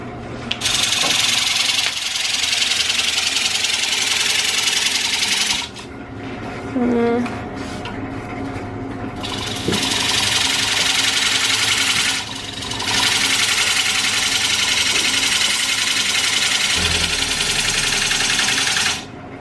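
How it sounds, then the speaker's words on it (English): Wood lathe cutting a tenon on the base of a California fir bowl, a loud steady broadband scraping that cuts in and out in long passes with brief pauses between. "I'm cutting the bottom for my chuck. I'm cutting a little tenon there"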